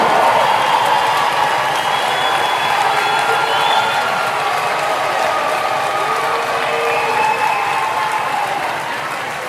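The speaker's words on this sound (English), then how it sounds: "giving a round of applause for these two fighters" Loud, sustained applause from a large crowd at a Cage Titans FC cage fighting event, steady throughout with a scattering of cheers mixed into the clapping.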